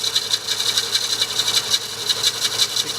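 Spindle gouge cutting a wooden bowl spinning on a lathe, giving a close, continuous rasping scrape with a quick rhythmic pulse as the tool meets the turning wood, no voices.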